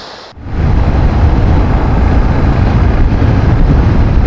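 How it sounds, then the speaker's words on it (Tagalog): Heavy rain suddenly begins, rising within half a second into a loud, steady roar that continues without a break. "biglang buhos ulan"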